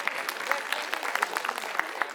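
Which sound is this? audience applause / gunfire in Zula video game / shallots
audience applause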